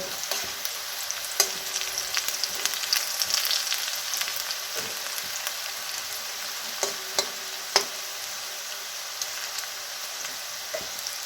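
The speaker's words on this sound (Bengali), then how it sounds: "এটা আমি সর্ষের তেলে ফ্রাই করছি" Okra frying in mustard oil in a pan, a continuous crackling sizzle with occasional sharp clicks and taps of stirring, steady and close, with no one talking.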